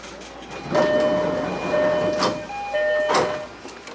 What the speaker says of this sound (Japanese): 電車が発車